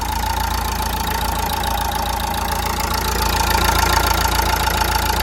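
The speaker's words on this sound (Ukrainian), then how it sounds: "ось дивіться, як працює двигун" A 2013 Nissan Qashqai 1.5 dCi diesel engine with 147,000 km idles steadily and evenly, a close, constant clattering hum with no revving and no speech.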